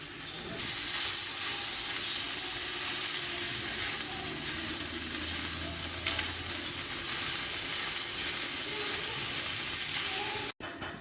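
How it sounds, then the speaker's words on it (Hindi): Chopped tomatoes soften in a pan for a tawa qeema, giving a steady, moderately quiet frying sizzle with faint clicks and a low hum that runs evenly, ending in a brief cut; no one speaks. "जो हमारे कटे हुए टमाटर हैं हम इनको डाल के इसमें थोड़ी देर के लिए 3 से 4 मिनट इनको भी सॉफ्ट करते हैं और पका लेते हैं"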